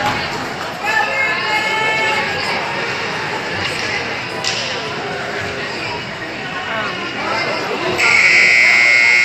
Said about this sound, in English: There's your buzzer, the end of the first period.